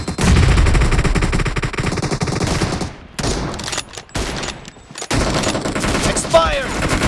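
Rapid automatic gunfire bursts out in the PUBG Mobile video game, with dense strings of shots broken by short pauses. A voice is faintly audible beneath the shooting.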